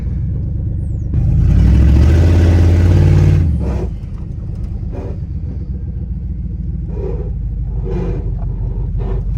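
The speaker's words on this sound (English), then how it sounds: "I know you guys can't hear me over the fact that I'm ruining a brand new set of tires" A Dodge Dakota R/T V8 pickup roars loudly for a few seconds as it spins its tires in a burnout, then drops back to a low, rough rumble.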